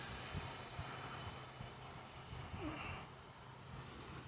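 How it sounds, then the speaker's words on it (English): An overheated lawn mower engine that ran dry gives off a steady close hiss and sizzle, a continuous noisy wash that softens slightly midway. "I don't know if you can hear that sizzling."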